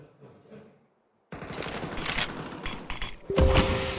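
Gunfire in a Counter-Strike tournament match: after a brief near-silent gap, a dense burst of rapid shots erupts and continues loudly for several seconds, with a sharp tonal game sound near the end.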